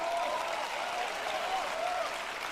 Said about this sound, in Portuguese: aplausos para o David.